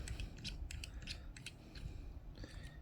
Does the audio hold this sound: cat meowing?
no